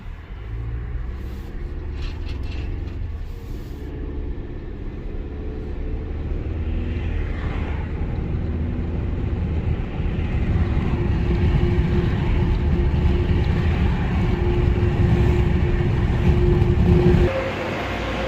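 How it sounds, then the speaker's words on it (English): A 2019 Ford Ranger pickup truck on a test drive, its steady road rumble and engine drone rising slightly in level midway and holding close and continuous, with no talking. "Going for a quick test drive, 10 miles"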